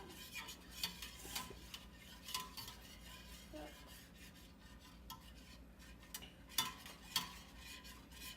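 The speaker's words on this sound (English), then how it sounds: "Looks like you just got to keep stirring it, huh?" Scrambled eggs with butter and parmesan stirred in a pan, soft scraping of a utensil against the pan at a slow, uneven pace, with light clinks and a faint sizzle underneath, no talking.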